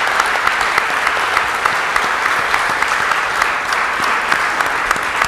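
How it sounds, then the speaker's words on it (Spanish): Warm, loud applause from an audience at a panel talk on consciousness in Buenos Aires, a thick wash of many hands with individual claps popping out, steady from start to finish. "Vamos a agradecerle también con un aplauso cariñoso a Carlos acá."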